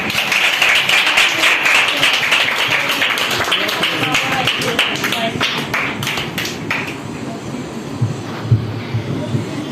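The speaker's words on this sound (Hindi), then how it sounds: "ैडम रजिया और जो इस मिनिस्ट्री की चेयरमैन है, हम आपकी भरपूर तालियों के साथ उनको बुलाएंगे।" Audience applause at an AKS Ministry gathering in Pakistan, dense steady clapping from a crowd that holds loud and continuous before thinning toward the end.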